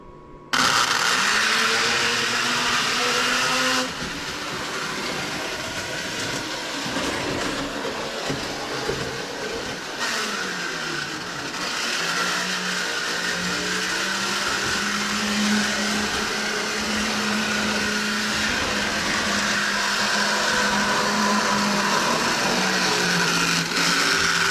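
Lionel toy train motorized unit running in gear, giving a steady whirring electric motor drone that stays fairly even and close throughout, with a brief shift in pitch early on.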